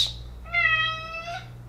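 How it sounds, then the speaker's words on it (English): A cat gives one clear, drawn-out meow indoors over a low steady hum, with no talking. "You need to stop meowing."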